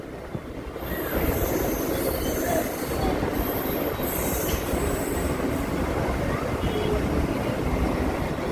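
An Andheri–Virar double fast EMU local train runs steadily, with a loud continuous rumble of wheels on rail, high wheel squeal rising above it, and faint clatter throughout.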